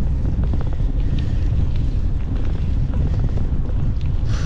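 A strong headwind batters the microphone of a cyclist pedalling home in drizzle, a loud continuous roaring rumble with gusty swells throughout.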